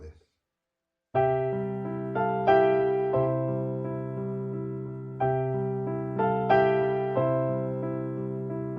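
Piano plays the Silent Night melody with embellishments, voicing each note with a harmony a third below, as two gentle repeated phrases of ringing chords, clear and close with no talking.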